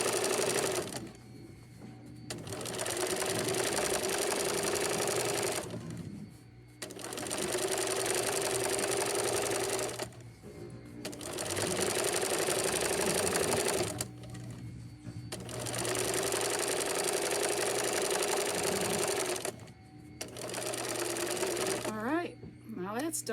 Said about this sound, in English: So we're just going to run a top stitch around here.